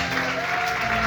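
Church congregation applauding for Jesus during a worship service, a steady dense wash of clapping at close range with a sustained tone or hum running beneath it.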